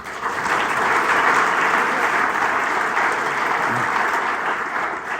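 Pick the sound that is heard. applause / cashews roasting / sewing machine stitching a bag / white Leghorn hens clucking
applause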